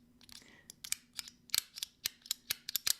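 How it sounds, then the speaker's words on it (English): A ZY EDC haptic coin fidget toy clicks repeatedly, producing a quick series of crisp, light, close-up clicks in an irregular rhythm, quiet overall and heard alone with no voices. "So haptic coin with a quite it's pretty quiet noise. It's not that loud. The click is pleasant, also not too loud."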